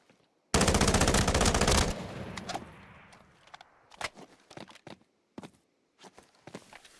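Rifle gunfire in a video game: a loud sustained burst of automatic fire opens the moment, followed by a scattering of sharp single shots and thuds at irregular intervals, with no talk.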